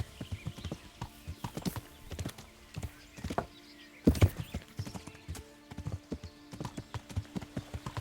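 Horse hooves gallop in Kingdom Come: Deliverance, a fast, steady clip-clop of rhythmic thuds with a loud heavy impact partway through, close and clear under faint background ambience.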